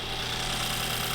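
A BMW N20 engine in an F30 idles after a spark plug change, a steady, even rumble close by with no voices.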